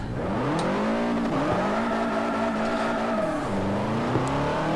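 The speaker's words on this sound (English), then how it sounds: "We'll rev it up." In Forza Motorsport 4, a 2005 Subaru Impreza engine revs at a launch, a loud, sustained engine note rising and dipping through several swells with faint tire noise and no talking.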